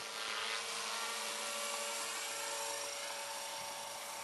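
A hovering RC helicopter produces a steady, high, whining buzz with a hissing rotor wash, holding continuous and fairly close with no pauses.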